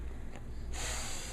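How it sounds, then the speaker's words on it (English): A baby girl makes a brief unusual snorting breath, a short soft rasp followed by a sharper airy hiss, close and quiet with no talking. "She does this, like, breathing that is just..."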